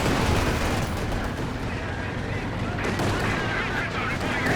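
Heavy combat in Company of Heroes 2 where a Tiger Ace tank fires amid dense battlefield noise, with booming shots and gunfire layered into a continuous loud rumble.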